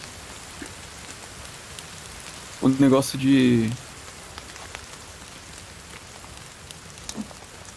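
Rain falls in the survival video game The Forest, a steady soft hiss throughout, briefly under a short spoken phrase near the middle.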